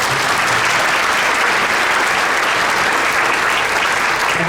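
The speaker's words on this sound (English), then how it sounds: "Round of applause for the clarinet section." A school audience at a sixth grade winter concert claps for the clarinet section, loud, dense and sustained applause filling the room without a break.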